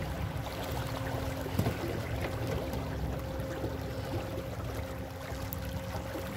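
An electric boat with a Creabest 120 Ah LiFePO4 battery runs at power level 5, a steady low motor hum under constant rushing water, with no talking.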